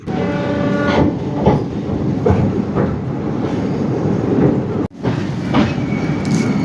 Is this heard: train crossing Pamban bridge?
yes